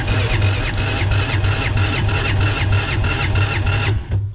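A small engine cranks over steadily with a rhythmic, repeating churn and a high whine while throttle and a little gas are given, loud and close, then cuts off abruptly near the end.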